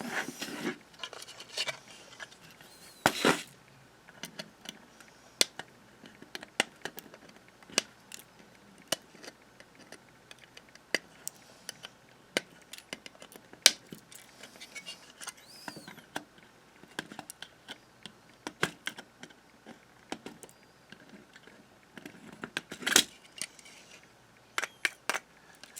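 Component leads being snipped with cutters during an electronics kit build of a QRPme PocketPAL, giving scattered sharp clicks and ticks at irregular intervals against a quiet background.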